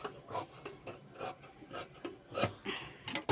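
Fabric for a silk saree blouse being cut into small pieces, a run of rough rasping, rubbing strokes repeating close up in quick succession with no talk.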